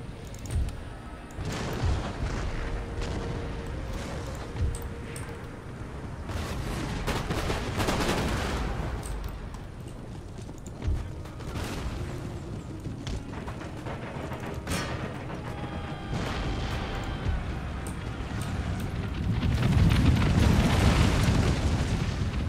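Battlefield fire in the video game Empire Total War, with mortars in action: repeated heavy booms and crackling gunfire keep coming over a dense, rumbling din that grows louder toward the end.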